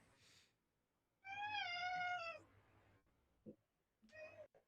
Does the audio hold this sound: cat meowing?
yes